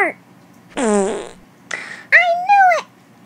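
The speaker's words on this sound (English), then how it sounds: "probably gonna fart." A cartoon fart sound from the Talking Tom app game, a loud short blast followed by the cat character's high, pitched-up chattering voice.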